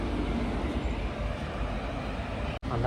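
Interior of an intercity express train on the Tirupati to Tiruvannamalai route, creeping slowly near Chandragiri: a steady broadband rumble and rattle fills the cabin continuously, with one brief dropout near the end.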